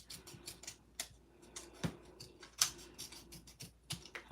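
Scissors snipping paper trimmed for a handmade card: a series of faint, crisp cuts and small clicks at an uneven pace, close and quiet with no talking.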